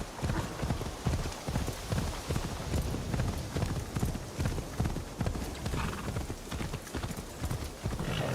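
Horse hooves clip-clop in a steady, even rhythm in the Assassin's Creed Shadows video game, moderately loud and continuous throughout, with a faint whinny and light background ambience.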